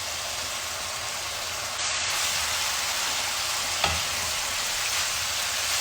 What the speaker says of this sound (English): So we're going in with our green and red pepper.